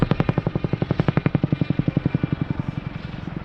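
A Boeing Chinook HC.6 twin-rotor helicopter in a spiral descent at an air display, its loud, rapid rotor thumping beating steadily and then gradually easing and fading slightly toward the end.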